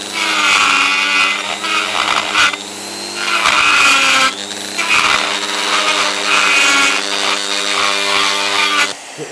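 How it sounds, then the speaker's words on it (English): A ball end cutter grinds material out of an aluminium casting being prepared for TIG weld repair: loud, close, high-pitched rotary whine in several sustained bursts separated by brief pauses, with no voices. "Ball end cutter is ideal for this sort of job."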